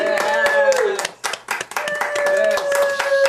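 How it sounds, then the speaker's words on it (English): Audience and cast clap at the close of an amateur pantomime of Dick Whittington, brisk hand claps in close, uneven bursts while voices cheer and call out over them. "Applause! Yay!"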